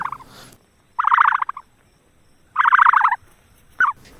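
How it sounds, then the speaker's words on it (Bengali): An emu at the national zoo in Mirpur gives loud, close calls in two bursts of rapid throbbing notes and a short final one, with quiet gaps between. "ইমু পাখি কেমন অদ্ভুত একটা শব্দ করে"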